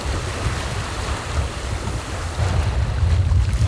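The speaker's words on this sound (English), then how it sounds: "The wind's picked up a little bit, so we're sailing again." Wind and waves wash around a sailing boat out in the middle of a strait, a steady rushing surf and gusty wind noise across the microphone, swelling slightly louder toward the end.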